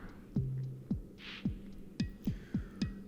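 Heartbeat sound effect from the video game Elementalist, a steady thumping pulse of about six low beats in three seconds over a faint hum and scattered game tones.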